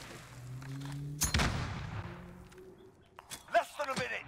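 A grenade detonates in the Modern Warfare shooter, one sharp, loud blast with a decaying rumble, followed by scattered rapid gunshots and in-game effects. Talk runs underneath.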